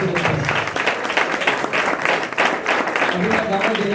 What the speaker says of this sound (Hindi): भाई सनी जिमी के लिए और अंकल के लिए जोरदार तालियां